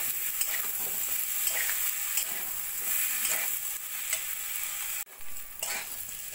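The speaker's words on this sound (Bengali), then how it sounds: "চালটা ভালো করে এঁচড়ের সঙ্গে মিশিয়ে নেব" Gobindobhog rice being stirred together with jackfruit in a pan, a steady scraping and sizzling that runs continuously at close range, with a brief dip near the end.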